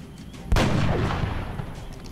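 A single heavy gunshot in the strategy game XCom Enemy Within, a sharp blast followed by a long rumbling tail.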